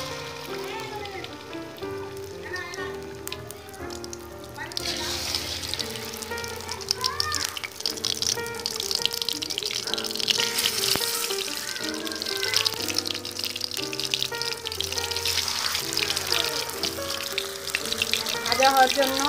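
Pumpkin flower fritters frying in hot oil, a steady hiss and sizzle rising once the batter goes in partway through, heard beneath continuous background music.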